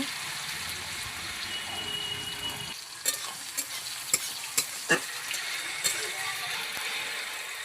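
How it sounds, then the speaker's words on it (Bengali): Onion frying in a wok with dried red chilli and cumin seeds gives a steady close sizzle throughout, joined midway by several sharp clinks and scrapes of a spatula stirring against the pan. "এবার পেঁয়াজটাও দিয়ে দেবো। পেঁয়াজটা দিয়ে ভালো করে একটু ভেজে নেব।"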